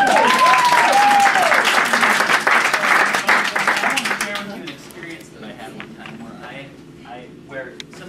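An audience bursts into loud applause mixed with cheers and a whistle, which fades after about four seconds into scattered claps and murmuring voices.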